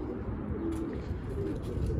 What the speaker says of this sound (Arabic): تمام طيرنا الطيور